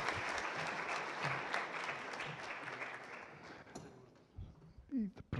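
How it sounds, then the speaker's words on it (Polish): An audience at an Olympic committee event applauds warmly, with steady massed clapping that dies away toward the end, where faint voices and brief rustling sounds come through. "Gorące brawa i pozdrowienia."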